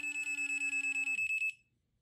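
A dog bark control collar gives a rapid series of high, pulsing electronic beeps steadily for about a second and a half, then stops abruptly, leaving near silence.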